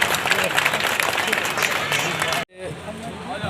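A crowd at a public gathering applauds loudly and densely for about two and a half seconds. The clapping stops sharply, and a voice speaks over the quieter room afterward.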